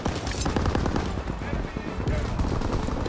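Rapid gunfire from a WWII video game, including MP40 submachine gun bursts, crackles densely and without a break over loud game voices and battle noise.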